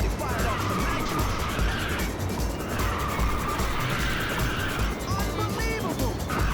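A car firing its nitrous boost in the Ridge Racer PSP racing game, a continuous roaring engine drone with tire squeals and skidding whines, loud and close, with a voice talking over it.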